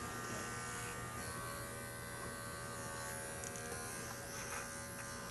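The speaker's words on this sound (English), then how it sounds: "this clipper is the Bravera made by Wahl" A Wahl Bravura electric clipper trims inside a smooth-coated dog's ear, giving a steady close buzzing hum that runs without a break.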